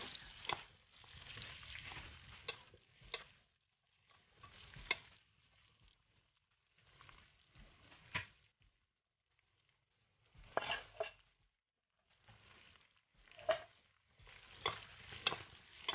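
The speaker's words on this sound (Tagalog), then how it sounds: "ilalagay ko na po ang aking ginger, onion at garlic. In any order, basta gisahin ng mabuti" Ginger, onion and garlic are sautéed in a pan with a quiet sizzle. Spatula stirs and scrapes come in short bursts separated by pauses.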